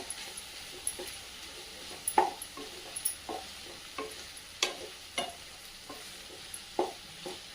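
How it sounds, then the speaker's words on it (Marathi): A spoon stirs capsicum and potato in a frying pan for a dry bhaji, making repeated scraping strokes in a steady rhythm over a faint, soft sizzle, close and fairly quiet. "आणि आता मिक्स करून घेऊया"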